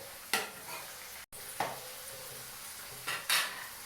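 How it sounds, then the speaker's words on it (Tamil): Vegetables for brinjal kuzhambu fry in oil, a soft sizzle broken by a few sharp spatula scrapes and clanks against the pan, with no voices. "எல்லாத்தையும் நல்லா வதக்கி எடுப்போம்"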